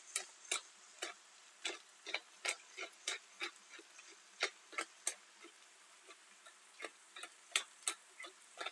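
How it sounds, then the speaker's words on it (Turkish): A pepper mill grinding black pepper, a quick series of sharp crunchy clicks and ticks in irregular rhythm, close and fairly quiet against a silent background. "karabiber çekeceğim"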